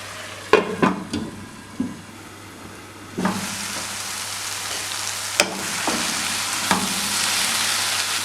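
Pineapple filling for kozhukattai cooks in a covered pan, a steady sizzle and bubbling that swells louder after a few seconds, punctuated by occasional sharp clicks and pops.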